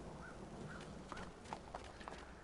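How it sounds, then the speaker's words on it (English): Horse hooves clop in the Assassin's Creed video game, a steady run of soft, fairly distant footfalls under a dense ambient game soundscape. "Get off the horse, Ezio."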